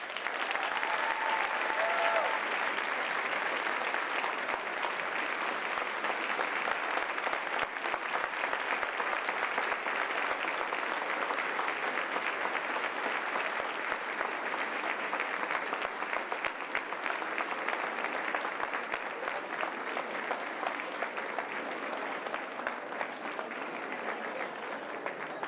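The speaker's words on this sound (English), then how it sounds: "Ladies and gentlemen, another round of applause for Hall of Famer Lisa Leslie." Sustained audience applause from a large crowd at a Keeper of the Dream 2020 event, dense and steady, loud and close throughout with no break.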